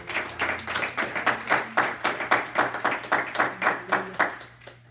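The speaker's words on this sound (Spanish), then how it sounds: "Denle un aplauso al Señor" A church congregation claps together in a steady, rhythmic beat, loud and close, with a low sustained organ or keyboard tone underneath and no speech over it.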